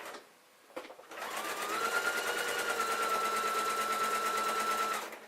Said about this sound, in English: you can just push everything through the sewing machine